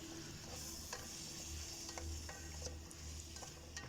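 A paste of tomato, garlic and green chili sautés in a pan with a steady low sizzle and occasional stirring scrapes, continuous and fairly quiet.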